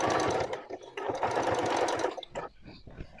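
Sewing machine running steadily with a twin needle along an overlocked edge of a one-piece trouser, a busy continuous stitching whir that pauses briefly near the end, with faint handling noise.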